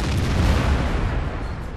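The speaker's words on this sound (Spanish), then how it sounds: "Otra vez el disparo de la misma artillería, la grilla otra vez, que me ha hecho 20 puntos de daño." An artillery shell exploding in World of Tanks, a loud, dense low boom that rumbles and slowly decays over under two seconds.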